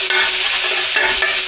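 Metal spatulas scrape and chop across a hot griddle, folding shaved beef for a cheesesteak amid steady loud sizzling, with a few sharper scraping strokes standing out.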